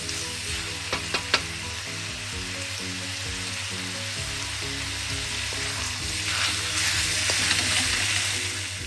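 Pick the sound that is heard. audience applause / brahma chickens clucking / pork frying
pork frying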